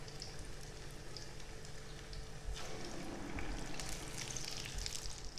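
Keto pakoras, made with psyllium husk, frying in hot oil, giving a steady soft sizzle that grows a little louder and busier midway, with no talking.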